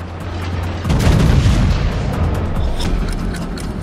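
The main guns of the battleship Vladivostok fire in World of Warships with a loud, deep boom, followed by a long, heavy rumbling roll that carries on through the rest.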